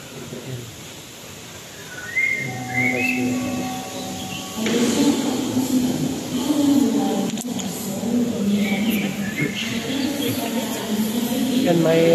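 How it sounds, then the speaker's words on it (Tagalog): Artificial recorded birdsong-like whistles play from a speaker in a large echoing indoor garden inside HIA airport, mixed with a person talking and general crowd murmur. "may mga naririnig din na mga huni ng ibon pero artificial no"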